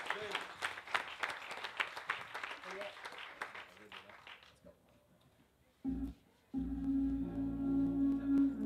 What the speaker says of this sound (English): Clap for that guy in the black.